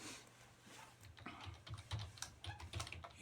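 Keystrokes on a computer keyboard while C code is written, a quick uneven run of light clicks and taps close by, with no talking.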